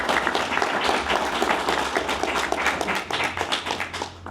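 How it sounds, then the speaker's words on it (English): Audience applause fills a convention panel room at a toy show, a steady wash of many hands clapping throughout with individual claps audible near the end. "I think that's an applause for everybody for making this happen"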